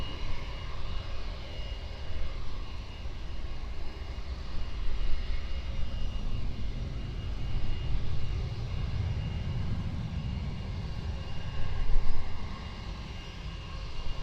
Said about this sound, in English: this Jetstar is heading off to Newcastle, Jetstar 493